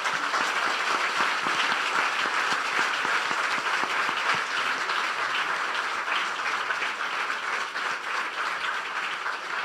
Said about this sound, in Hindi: यीशु के जलाल के लिए जोरदार तालियां दें।